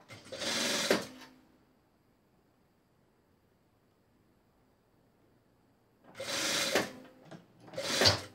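Sewing machine stitching a seam closed on a knit chemise dress, with two bursts of steady mechanical whirring, one short run at the start and another near the end split by a brief pause, set against a quiet room.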